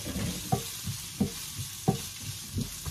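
Garlic sizzles in a pan under a regular rhythm of spatula stirs, about four clear scrapes in a few seconds, close and fairly loud with no voices.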